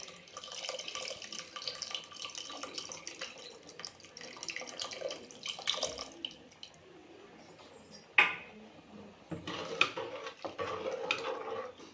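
Tamarind water that had been soaking is poured into a pot of eggplant sambar, giving a soft splashing, trickling pour with some stirring and clinking of a utensil against the vessel, with no one speaking.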